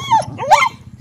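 Dogs at a village market bark and yip in a short, close burst, sharp cries with a whimpering edge over a low steady background hum.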